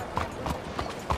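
Horse hooves clip-clop at a steady walking pace in Red Dead Redemption 2, four distinct hoof strikes spaced evenly and fairly close, with no talking over them.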